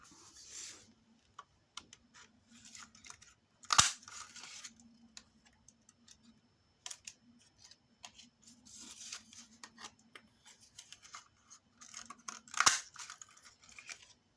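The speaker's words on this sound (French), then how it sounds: "on va couper 2 cercles" Scissors snip out two small paper circles for a mini envelope in a quiet room, with sparse soft clicks and two sharper snaps, faint and close.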